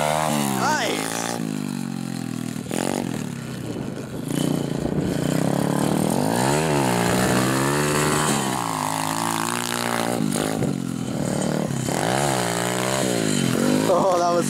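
SSR pit bike engine revving hard through repeated wheelies, its pitch climbing and falling in sweeping waves, loud and close, with voices talking over it throughout.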